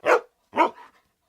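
A dog barks twice in quick succession, close and fairly loud, with short gaps of silence and a faint trailing yelp after the second bark.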